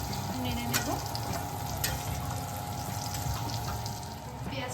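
Beans frying in a pan with a little water are stirred, giving a soft, continuous close sizzle and bubbling with occasional light scrapes, fairly quiet.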